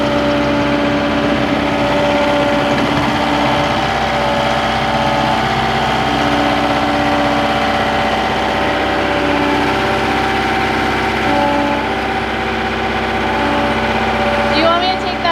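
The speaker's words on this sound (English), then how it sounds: "I'm gonna hook the auger up to the skid steer and then we'll get going on that." A skid steer's engine runs steadily at idle with an auger attachment on a porch construction site, a loud constant drone with a steady hum throughout and a short clatter near the end.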